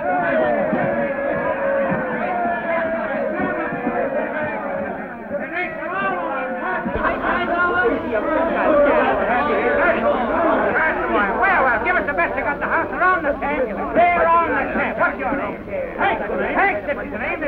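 Lively crowd chatter fills a room of men gathered around a boxing champ, overlapping voices and loud calls blending into a constant babble at close range.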